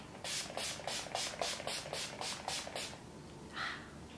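A rapid series of short, hissing bursts of makeup setting spray, about ten in quick rhythm, followed by a pause and one more brief spritz, close and fairly soft.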